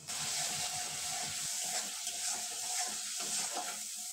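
Ground turmeric, cumin, coriander and Kashmiri red chili powder sizzle steadily in hot oil in a pan for a vegetarian okra curry, with a dense continuous hiss and soft scraping of stirring, close and loud, with no talk.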